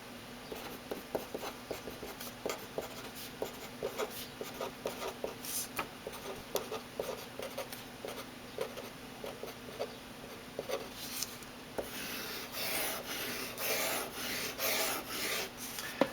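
A Pilot V Razor Point pen writes on paper, heard close as soft scratchy strokes in short rhythmic bursts, then longer continuous scribbling lines toward the end.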